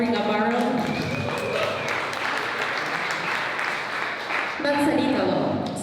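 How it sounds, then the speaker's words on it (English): Audience applause at a tech event, a steady crowd clapping that holds for several seconds with speech running over it. "so a round of applause please"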